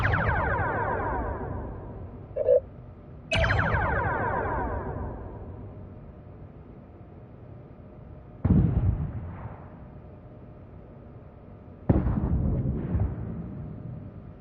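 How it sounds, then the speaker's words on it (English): Torpedoes launched at a nearby ship in a space combat video game, heard as several loud booming blasts, each with a long decaying rumble, the first two close together and the later two spaced apart. "Target the nearby ship and fire torpedoes at it"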